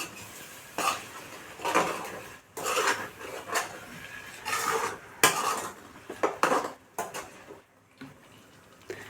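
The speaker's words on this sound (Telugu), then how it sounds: "వేసేసుకున్న తర్వాత ఒకసారి అనేది కలిపేసుకుందాం మొత్తం" A spoon scraping and clinking in a pan as eggplant and potato curry is stirred with turmeric and salt, repeated close metallic strokes in an uneven rhythm with no voices.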